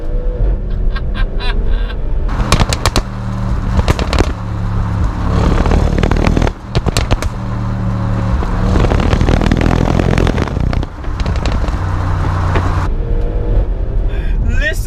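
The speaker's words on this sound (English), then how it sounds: "the V8 twin turbo in the Rs6" An Audi RS6 Performance's twin-turbo V8 engine roars and revs loudly up close, with repeated surges and sharp pops breaking through the continuous rumble.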